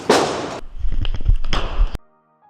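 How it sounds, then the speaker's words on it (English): A single gunshot fired during a Tueller drill, a sharp crack near the end after a burst of rushing noise and scuffling thumps, followed by sudden quiet. "He fires off a shot."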